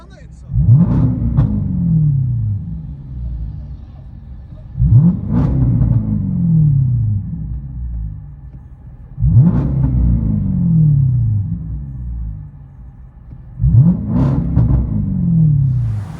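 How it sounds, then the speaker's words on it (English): A supercharged Jaguar XJL V8 with straight pipes, rated at 510 horsepower, revs hard four times from inside the cabin. Each rise is loud and booming and settles back to a rumbling idle between blips. "XJL supercharged, pushing 510 horsepower"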